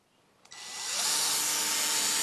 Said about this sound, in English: So we're going to get a few screws in here to hold it.